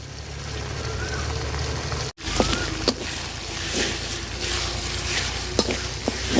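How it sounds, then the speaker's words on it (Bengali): Ground spice paste fries in oil with reddened onions for a pangas fish curry, a continuous close sizzle broken by a sharp cut near the start, then scraping stirs and clinks. "মশলাটা খুব সুন্দর করে ভাজা নিব তেলের সাথে"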